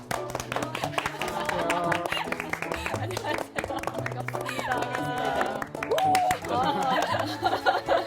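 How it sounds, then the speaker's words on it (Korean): Studio audience clapping for a guest introduced on a Korean talk show, a lively patter of many hands running through the clip beneath a host's voice, with brief chuckles and chatter mixed in. "박수 좋아하시는군요."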